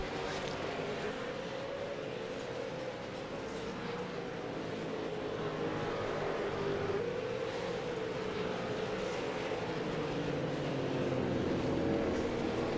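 V8 Supercar race cars lapping Zandvoort in the iRacing sim, a steady droning engine roar with layered pitch sweeps from several cars, moderately loud and continuous throughout.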